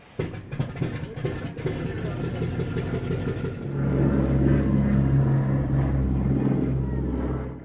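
Boeing B-17 bomber in flight with a WWII veteran aboard, the deep propeller-engine drone swelling louder and steadier partway through, beneath a narrator speaking over the opening seconds.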